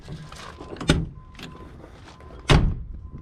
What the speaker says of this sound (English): Door closes great.